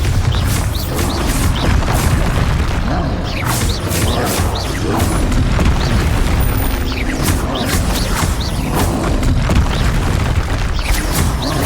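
A Bombarda spell explosion in the video game Hogwarts Legacy, part of a hard-mode battle: loud, dense booming blasts and crashes rolling on continuously amid chaotic combat effects.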